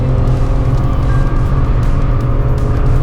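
Tata Altroz Racer car at speed on a race track during a hot lap, a loud continuous engine and road roar with tire and wind noise, steady throughout without talk.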